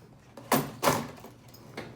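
Large Kryptonite padlock tossed into a drawer, two loud thudding clunks with a metallic rattle in quick succession, then a softer knock, close by and without talking.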